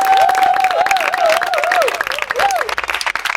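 Children applauding and cheering, joined by a crowd, with rapid clapping spread through the room and a high voice singing or wailing in wavering tones above it, lively and close.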